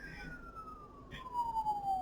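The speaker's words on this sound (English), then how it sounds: "Let's pray for the sirens going by." A faint emergency siren passing at a distance, its wailing tone sliding slowly downward as the vehicle moves away, under a low background hum with a brief click midway.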